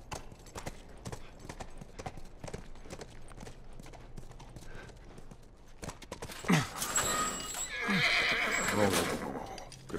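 Horse in The Last of Us game, hooves clip-clopping steadily before a loud, close neigh and whinny rising in the second half.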